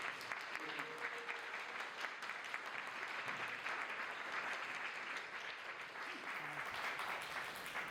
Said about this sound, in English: please give a big round of applause for our next great panel